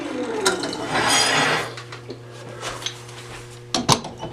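A turned walnut bowl is fitted onto a wood lathe chuck, giving a sliding scrape followed by a few sharp metallic clicks and clunks near the end, close and loud with no talking.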